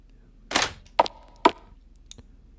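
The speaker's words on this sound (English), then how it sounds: "I was awoken to a very strange distant banging noise" Distant banging in the video game Danganronpa: three dull, evenly spaced thuds about half a second apart, then a faint fourth tap, each isolated against quiet background with no voices.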